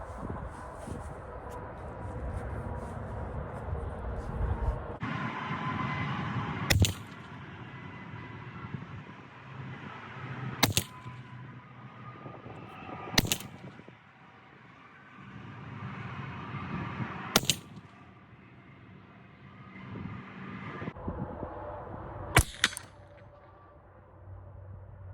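Ruger 10/22 tactical rifle firing CCI Mini-Mag .22 ammunition outdoors: five sharp, spaced single shots over a steady background rumble, each crack brief and distinct, no talking.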